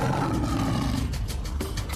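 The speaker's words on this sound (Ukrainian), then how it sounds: "великі кішки найчастіше гарчать" A big cat at a zoo lets out a loud, close roar, rumbling and rasping across two seconds with pulsing surges and no talk.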